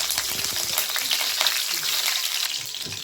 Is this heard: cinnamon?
yes